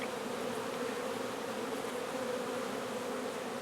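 Honey bees buzz steadily around beehive frames during hive work, a dense, continuous close-up drone with no voices.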